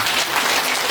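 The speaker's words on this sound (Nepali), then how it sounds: "त्यसो भए उठाएको हातमा जोडदार ताली बजाउनु।" Loud, dense applause from an audience at a Brahma Kumaris Janmashtami gathering in Hetauda fills a short burst of continuous clapping.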